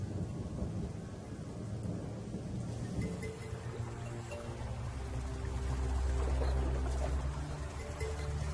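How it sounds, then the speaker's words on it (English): Thunderstorm with steady heavy rain ending a drought in lion country, a dense continuous hiss of rainfall with low rumbling thunder swelling louder toward the end. "just as I thought all was lost, the rains came,"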